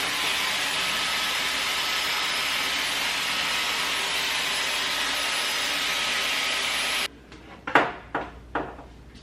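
A Dyson hair styler blows with a loud, steady whirring roar for about seven seconds, then cuts off, followed by a few sharp clicks and knocks as it is handled.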